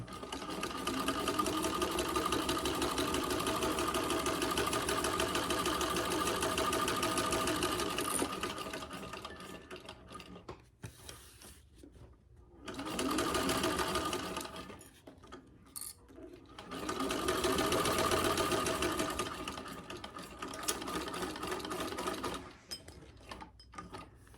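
A 1952 Singer sewing machine stitches a pouch with a loud, close, rapid mechanical whirring and clatter. It runs in long bursts, broken by short pauses where the machine slows or stops.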